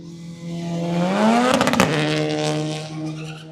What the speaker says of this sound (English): Should be Sean Donnelly coming through in the Renault Clio Rally 3